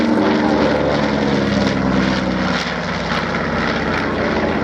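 Douglas C-47 propeller aircraft rolling out at the Shoreham Airshow, a loud, steady piston-engine drone with propeller throb, close and continuous throughout.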